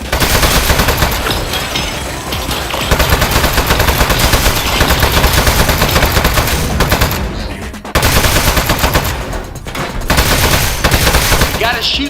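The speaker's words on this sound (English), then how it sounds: "Shoot the speed up switch in the back." Rapid bursts of loud gunfire from the video game Aperture Desk Job as a switch is shot, near-continuous shooting with a brief pause partway through and a voice faintly underneath.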